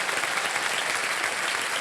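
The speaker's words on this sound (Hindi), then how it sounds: "तालियां बजाएं उनके लिए" A studio audience on a televised quiz game show claps steadily and densely, a loud continuous wash of applause from start to finish.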